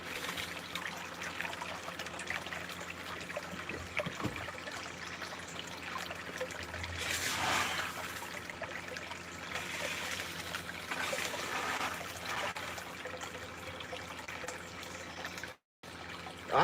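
Water from an 1,100 gallon per hour pump rushes steadily through a 6-inch gold sluice fitted with a green combo mat in a backyard, a continuous close trickling and pouring wash that holds even for the whole stretch.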